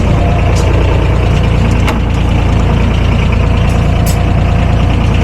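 A vehicle engine idles steadily while warming up with dogs inside, a continuous low rumble that holds evenly throughout with a few faint clicks and rattles and no talk.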